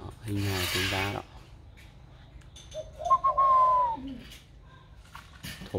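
A young spotted dove with a warm, deep voice, about a year old and just beginning to sing, gives short rhythmic coos close by. A rasping, rubbing noise falls between the calls and no one speaks.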